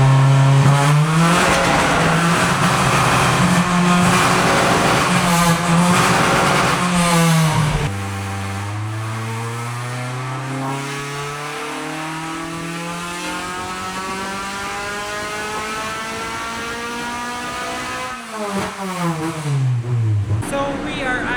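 A Honda EG car on a dyno climbs through a long rising engine pull, holds a loud rasping wail at high revs, then drops and revs again, with some voices under the engine noise.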